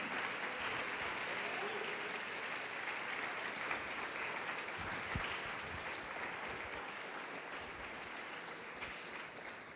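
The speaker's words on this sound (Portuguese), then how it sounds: "Pode aplaudir o Senhor Jesus e glorificar a Deus" A church congregation applauds in a sustained, dense wash of clapping that holds steady at moderate volume throughout, sounding spread out and somewhat distant.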